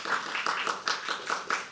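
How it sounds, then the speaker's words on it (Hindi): An audience at a live poetry open mic claps in a loose, moderately quiet burst of scattered hand claps, heard for a couple of seconds without talk. "इतनी तालियों से काम नहीं चलेगा भाई, जोर से"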